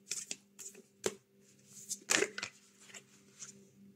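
Tarot cards being handled, drawn and shuffled in short bursts of papery flicks and snaps, with a louder riffle in the middle, over a faint steady hum.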